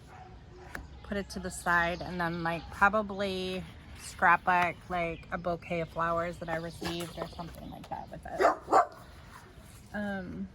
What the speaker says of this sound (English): my apologies for the dog barking because our dogs always bark